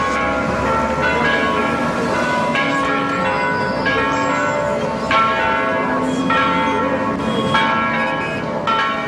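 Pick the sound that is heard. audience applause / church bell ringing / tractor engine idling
church bell ringing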